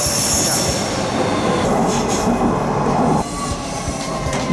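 A Docklands light rail train running above ground from London City Airport: a loud, steady rolling rumble of wheels and carriage noise with squeal, heard from inside, and a brief drop in level partway through.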